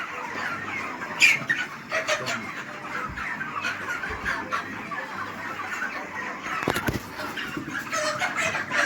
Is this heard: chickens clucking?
yes